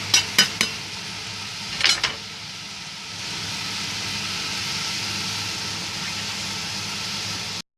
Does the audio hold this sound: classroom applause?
no